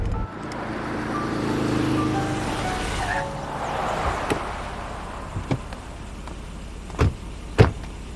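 Inside a manual-transmission car being driven, a steady low engine and road hum runs throughout, with a few sharp clicks and thumps near the end.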